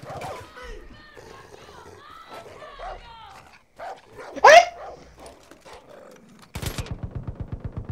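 In the video game Far Cry 5, a dog barks and snarls as it attacks, with a sharp gunshot in the middle and a rapid burst of machine-gun fire at the end. Someone talks quietly underneath.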